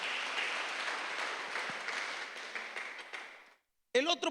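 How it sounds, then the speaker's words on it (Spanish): Congregation applause during a church service, broad dense clapping lasting about three and a half seconds, then a sudden stop and a brief burst of other sound. "Si vas a aplaudir, vamos a aplaudirle al Señor"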